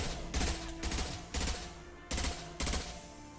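Rapid bursts of gunfire from a Mass Effect 2 firefight, several loud clusters of shots spaced about a second apart over a steady background of game ambience and music.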